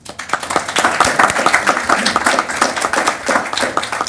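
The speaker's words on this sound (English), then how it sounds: "Huge round of applause for this group" Enthusiastic applause at a council meeting, dense overlapping clapping that holds steady and loud for several seconds with no talking.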